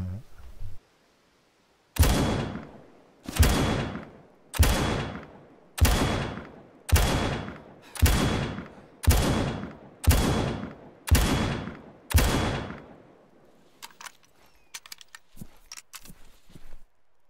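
An RPK machine gun fires in Arma 3, about nine evenly spaced loud shots, each ringing out with a long decaying echo. Fainter clicks and softer sounds follow.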